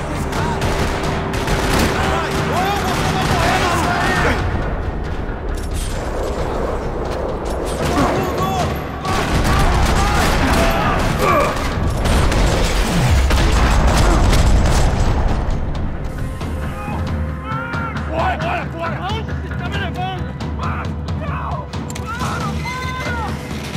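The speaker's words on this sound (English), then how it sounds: "Another parking lot rattling with gunfire." Gunfire rattles through a parking lot in the shooter video game Max Payne 3, loud sustained bursts of automatic fire with booming impacts and crashes over roughly twenty seconds, with voices heard in the mix.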